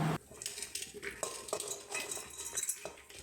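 Soaked chana dal and potatoes going into a pressure cooker, with a busy, close mix of clinks, scrapes and rattles of metal cookware and a small pour of legumes, no talk.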